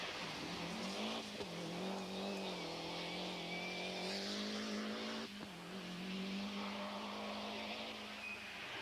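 A Toyota rally car races through the British forests on the 1991 RAC Rally, its engine holding a sustained high note with brief gear-shift dips, faint and distant.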